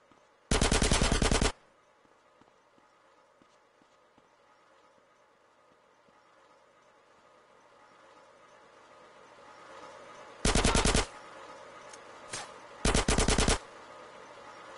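Three loud bursts of automatic gunfire in GTA San Andreas, one near the start and two close together near the end, with quiet game ambience between them.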